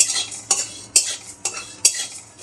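Whole cumin, coriander, cardamom, cinnamon and cloves dry-roasting in a pan, rattling and scraping under a spoon that stirs in regular strokes about every half second.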